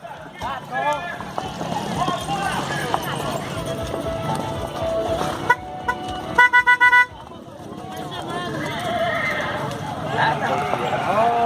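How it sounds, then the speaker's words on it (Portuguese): Horses outdoors, one neighing loudly and clearly while hooves clip-clop nearby, with people talking over the sounds throughout. "Olha o cavalo montado no outro, deixa eu filmar."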